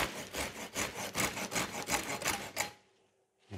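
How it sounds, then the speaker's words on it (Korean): Hand saw cutting through a thick branch of a wild cherry bonsai, about a dozen quick rhythmic rasping strokes close up, then a sudden stop into near silence. "이 큰 거는 톱을 이용해서 일단은 이거 앞쪽부터 먼저 한번 잘라볼게요"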